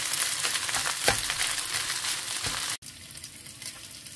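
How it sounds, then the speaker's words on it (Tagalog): Instant fried rice stirred in a hot pan, loud steady sizzling with scraping spatula strokes, a couple of sharper clacks, then a sudden drop to a quieter crackle near the end. "lagay natin ang ating instant fried rice. Haluin lang natin."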